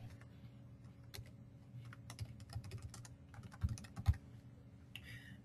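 Keys clatter on a computer keyboard as a group name is typed into permissions software, an uneven run of soft taps with a couple of sharper strikes, quiet and close with a faint steady hum underneath.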